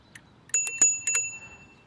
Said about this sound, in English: You've got a bell,